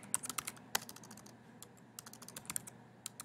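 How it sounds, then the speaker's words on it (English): Fingers type on a computer keyboard, producing quick, light clicks in irregular bursts, with a short pause in the middle before the tapping resumes. No one speaks. "So go ahead and type the title of your website"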